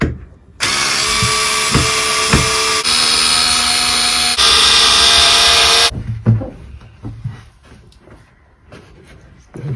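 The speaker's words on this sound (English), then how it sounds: "now we just need to pull out all the screws that go up the side" A power drill backs screws out of a narrowboat's interior wall in three loud, sustained whirring bursts. Each burst shifts pitch slightly, followed by quiet clunks and handling noises.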